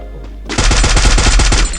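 A fast, loud burst of automatic gunfire in the Free Fire battle royale game, about a dozen evenly spaced shots in under a second and a half, close and punchy with no talking.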